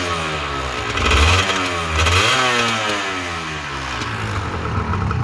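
A 1986 Honda NS400R two-stroke motorcycle rides down a street, its engine buzzing and revving continuously, swelling louder twice, near and alone without talk.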